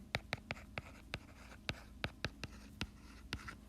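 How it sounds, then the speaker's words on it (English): Marker or chalk writing on a board while an equation is worked out: a dozen or so sharp, quick strokes and taps in an irregular rhythm, close and fairly quiet, with no talking. "I'm just going to write it up here."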